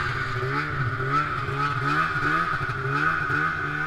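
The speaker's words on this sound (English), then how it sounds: "Here comes Ryan up the hill." A dirt motorbike climbs a hill, its engine revving in rising and falling waves as the rider works up the slope, heard fairly close above a steady background hiss.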